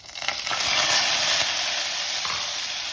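Onion, ginger and garlic paste fries in a hot pan with salt, giving a loud, steady sizzle and crackle that starts abruptly and holds evenly, with faint stirring scrapes and no talking.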